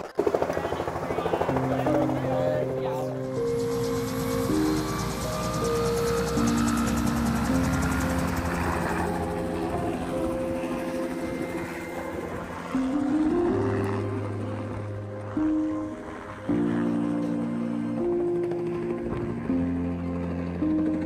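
A helicopter's steady rotor drone fills the scene throughout during a Mexican gray wolf survey, with tonal engine hum shifting in pitch and occasional louder swells.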